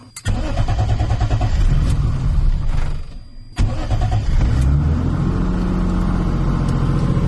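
A turbocharged M50 engine in a BMW E30 cranks and fires up loudly close by, stumbles and cuts out, then restarts and settles into an uneven idle that rises and falls as it hunts.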